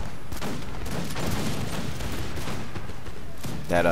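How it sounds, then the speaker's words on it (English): Musket volleys from skirmishers firing on cavalry in a Napoleonic battle in the Napoleon Total War video game, dense overlapping crackling shots rolling on loudly throughout, with a faint voice beneath them. "they're going to get some shots on that cavalry unit"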